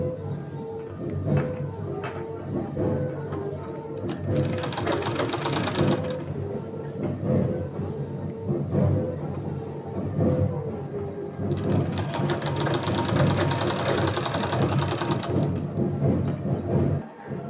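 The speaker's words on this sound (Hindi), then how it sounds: "इस तरह से इसको फोल्ड करके और इसमें सिलाई लगा देना है" Sewing machine stitching a folded fabric seam on a sleeve, a continuous close mechanical hum and rattle that swells into faster, brighter bursts of running stitches and eases between them.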